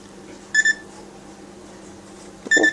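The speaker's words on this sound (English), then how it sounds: "Walk along the keys some more and it'll make some more sounds." A pet bird steps across a toy music keyboard, setting off two short bursts of bright electronic notes separated by a quiet pause, close and fairly clear in a still room.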